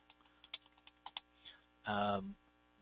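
Keys on a computer keyboard are tapped in a quick, uneven series of light clicks over a low electrical hum, followed by a short, louder buzzing burst.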